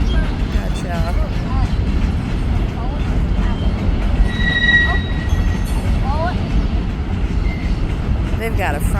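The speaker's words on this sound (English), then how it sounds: "They've got a front row seat right there to watch the train." A two-engine CN freight train moves through a railyard in Wausau, Wisconsin, giving a steady low rumble with faint wheel squeals and clanks, heard outdoors under people talking.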